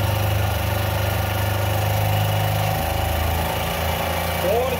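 A two-wheeler engine idles close by during RPM and mileage adjustment, a steady low throbbing hum with a slight dip in pitch partway through, and a voice speaks over it.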